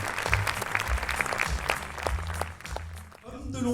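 Audience applause at an evening event, many hands clapping under someone speaking in French, the claps fading near the end as his voice continues alone.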